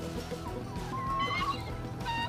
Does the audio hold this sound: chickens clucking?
yes